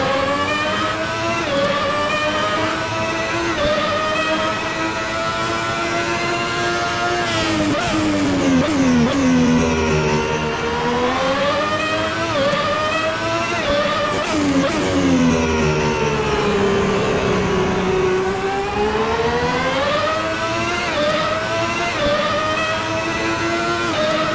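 A Ferrari 640 Formula One car in Assetto Corsa revs hard around Imola, its high-pitched engine note climbing and dropping through gear changes, loud and continuous.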